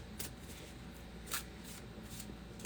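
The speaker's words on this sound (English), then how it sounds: "So I just want to shuffle these a little bit." Tarot cards being shuffled by hand, a few quick papery riffles and flicks in a quiet room, close and soft.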